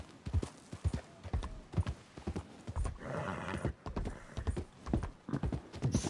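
Hooves of a horse in Red Dead Redemption 2 clip-clop in a steady rhythmic gait, close and distinct, with a snorting breath in the middle and no talk over it.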